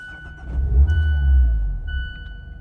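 Engine of a 2021 Mazda MX-5 Miata RF Grand Touring starting up, heard from inside the car as a deep low rumble that swells after the crank, settles into a steady idle, then eases slightly.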